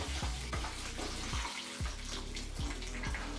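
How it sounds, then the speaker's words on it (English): Water pours steadily from a watering can onto a large repotted Monstera deliciosa houseplant, a continuous splashing trickle with brief breaks, close and fairly loud, with no talking. "I'm gonna use this watering can just because it's gonna help disperse the water hopefully a bit better"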